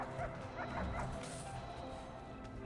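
A drug-sniffing dog in the Prison Architect video game gives a few quick barks and yips, faint and clustered early, over soft game ambience.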